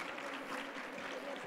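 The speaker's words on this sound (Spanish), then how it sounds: "Un aplauso para recibirlo." An audience at the Recrea Academy 2021 event applauds to welcome the secretary of education on stage, giving a brief, even burst of dense clapping.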